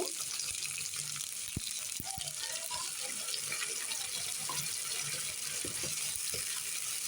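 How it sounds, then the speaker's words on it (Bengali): Hot water streams steadily into a pot of chicken curry with spice paste, a continuous splashing rush with a few soft knocks. "গরম পানি দিয়ে দিব"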